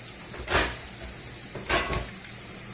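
Dill salmon with pesto paste cooks in a pan, giving a steady close sizzle throughout, with two brief louder bursts of spattering or stirring near the start and middle; nobody speaks.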